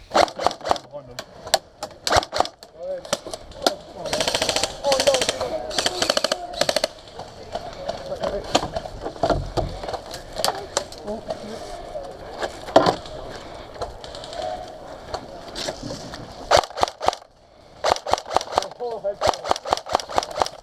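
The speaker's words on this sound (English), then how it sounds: "we're just shooting at the enemy as they're rushing up the hill" Airsoft guns firing during an outdoor woodland skirmish, with bursts of rapid clattering shots coming in clusters near and farther off, mixed with movement noise and voices across a busy, uneven scene.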